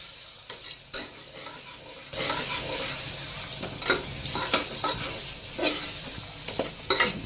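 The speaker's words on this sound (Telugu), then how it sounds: "ఇట్లా ఈ అల్లం వెల్లుల్లి పేస్ట్ కూడా పచ్చి వాసన పోయేంత వరకు వేపుకోవాలి" Ginger garlic paste fries in a pan for a village-style country chicken curry, a steady sizzle swelling after two seconds with repeated scraping stirs and clinks of a spoon against the metal, close and without talk.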